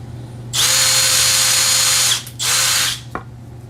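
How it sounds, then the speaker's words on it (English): Power drill whirring loudly up close in two bursts, a long run then a shorter one after a brief pause, ending with a sharp click. "Okay, I'm in drill mode."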